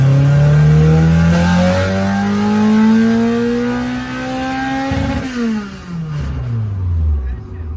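Honda K24/K20 all-motor car engine revving hard, pitch climbing steadily into VTEC for several seconds before dropping off as the revs fall, loud and close with people talking over it.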